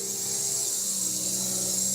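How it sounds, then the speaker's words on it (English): A string trimmer running outdoors in the distance gives a faint, steady buzzing drone with a constant engine pitch, heard alone in the background. "I don't know if you can hear the weed eater in the background."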